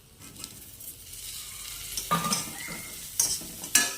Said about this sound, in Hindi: और इस मसाले को मैंने भूनना शुरू कर दिया है।